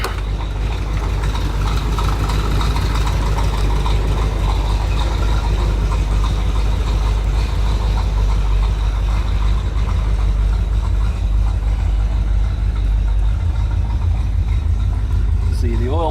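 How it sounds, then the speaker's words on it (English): A 1974 C3 Corvette with fresh stainless exhaust settles into a steady, rumbling idle after starting, loud and near, continuous throughout with no change in pace. "Car starts right up."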